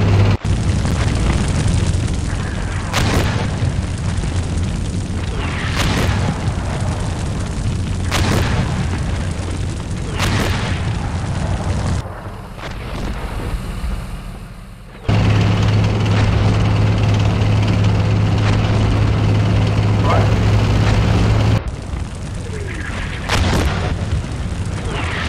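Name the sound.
incoming fire explosions in video game Steel Beasts Pro PE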